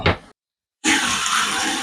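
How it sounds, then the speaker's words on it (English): Water gushes steadily from a shower faucet during testing after a rebuild, a loud continuous broadband rush that starts abruptly after a brief silence, preceded by a short burst of flow. "we're testing the water there at the faucet"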